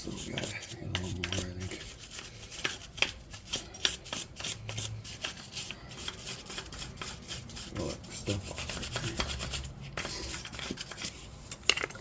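Scrubbing and rasping on a rear brake caliper of a 2004 Buick Century, a steady run of close, gritty rubbing strokes with scattered sharp metallic clicks throughout.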